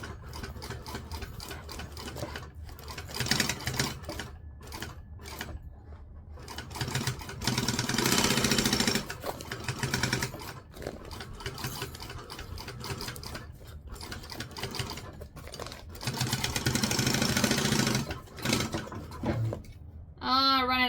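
Home sewing machine stitching in long runs of fast, loud, rhythmic whirring, starting and stopping several times with brief pauses, heard up close.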